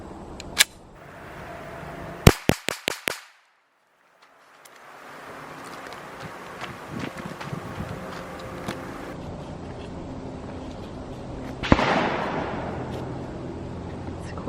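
Walther PDP F-Series handgun fired at an outdoor range: a sharp report near the start, then a quick string of four or five loud close shots, followed by quieter range ambience and another crack near the end.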